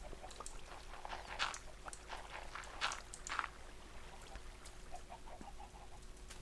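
Chickens in the video game Minecraft cluck in a few short, quiet bursts against a low steady background hum, with no talking.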